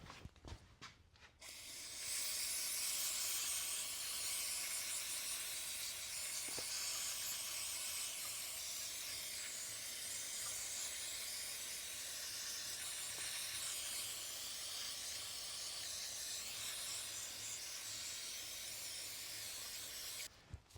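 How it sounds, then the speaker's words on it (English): Brake cleaner sprays in a long, steady hiss onto a part of a 2015 Scag Cheetah ZT5400 zero-turn mower with a leaking return-to-neutral seal, close and continuous for most of the stretch, with no voices. "I'm going to get some brake clean and kind of wash that up a little bit."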